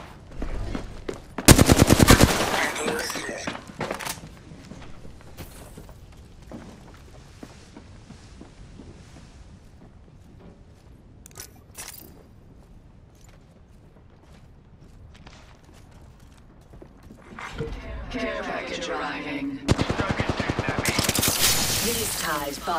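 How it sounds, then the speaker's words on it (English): Bursts of gunfire in an Apex Legends match, loud, dense rapid volleys near the start and again at the end, with quieter scattered shots and game noise between. "I'm taking shots."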